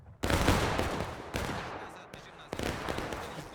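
A rifle volley crashes out in the War of Rights video game during a historical rules battle at Bolivar Heights, a loud ragged burst of musket fire followed by further scattered shots and echoing reports.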